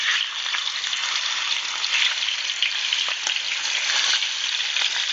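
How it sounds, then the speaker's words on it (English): Grease sizzling in a skillet over medium heat, a dense, bright, continuous hiss held steady and close throughout, with faint crackles and no voices. "this skillet that I already have some grease going in"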